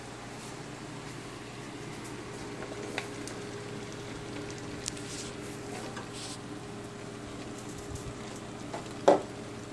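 Potatoes and carrots frying in a pan for a Mexican-style ground beef and mixed vegetable dish, a faint steady sizzle under low kitchen hum with a few small clicks and one sharper clatter near the end.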